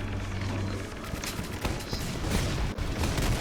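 Dense, continuous bursts of Roblox video game gunfire and explosions crackle throughout, with heavy booms, shotgun and RPG fire and rapid shots layered together in a loud battle mix.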